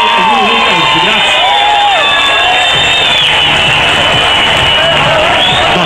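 A loud crowd at an international kart racing event claps and cheers continuously, dense and close, with voices shouting over the applause throughout.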